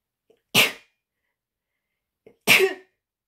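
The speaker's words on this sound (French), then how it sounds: "Je suis désolée, je vais éternuer." Two sharp sneezes, close and loud, about two seconds apart, each preceded by a faint sharp intake of breath, otherwise silent.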